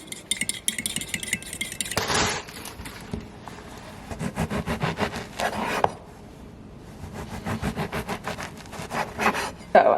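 A French toast mixture of milk and cinnamon whisked in a bowl, making rapid rhythmic clinking and scraping in several fast bursts with brief pauses between them, close and fairly loud.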